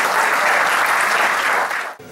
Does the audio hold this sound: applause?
yes